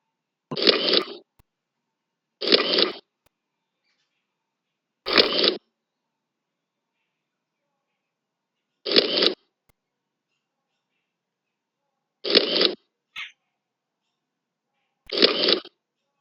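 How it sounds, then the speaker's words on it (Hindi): A camera shutter transition effect plays in MS PowerPoint six times at irregular intervals, each a short, crisp mechanical click-burst separated by silence. "ट्रांजिशन रो साउंड सेही अनुसार कोन होउची कैमरा रो साउंड"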